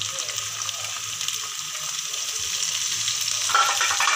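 Mutton, onion and spices frying together for pulao after ginger and garlic were sautéed: a continuous close, crackling sizzle with light stirring that grows slightly louder toward the end, no talking.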